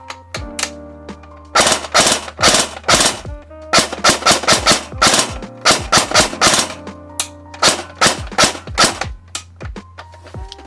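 Bursts of rapid clicking shots from an airsoft P90 replica with a newly installed mosfet, firing full auto in short strings over a steady motor hum, close and loud with no talking.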